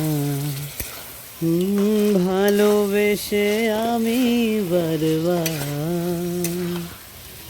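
Fried potato and pointed gourd get stirred into sizzling spices for a paneer dish, a soft frying hiss with occasional stirring clinks sitting beneath a prominent sung melody that dominates most of the clip.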